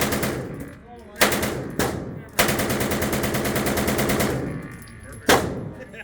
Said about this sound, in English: I ended up switching over and shooting an MP28 instead